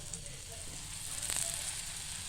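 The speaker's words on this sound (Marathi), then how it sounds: "आता आपण त्याला पलटी मारतोय. असं तेल सोडून पुन्हा एकदा आपण तेल सोडून घेऊया." Poha flipped in a hot pan with fresh oil added gives a bright, continuous sizzle with crackling, steady and close, swelling slightly midway.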